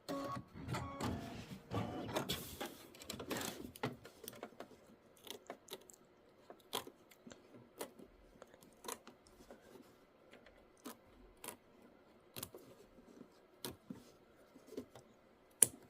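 An embroidery machine stitching a decorative outline stitch on a butterfly quilt block, a fast irregular flurry of needle clicks at first, then sparse, faint, sharp ticks spaced out over the rest.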